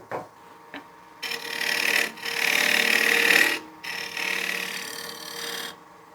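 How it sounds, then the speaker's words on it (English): A skew chisel cuts a dovetail tenon into a wet wooden bowl turning on a lathe, making a close rasping scrape. The cut comes in several sustained passes of a few seconds each, separated by brief pauses. "I'm gonna switch to my skew now to cut that dovetail tenon"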